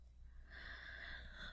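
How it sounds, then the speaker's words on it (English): A small human yawn drawn out as a soft, breathy exhale, faint and close, with a low hum underneath. "Oh, excuse me. Little yawn."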